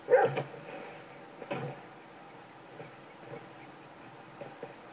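A dog, Chop, barks in Grand Theft Auto V, giving two sharp barks near the start and then a few fainter yips over a quiet game background.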